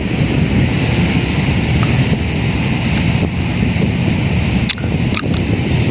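Steady seaside wind at Manila Baywalk roars across the microphone in a loud, constant rush, with a couple of brief knocks near the end.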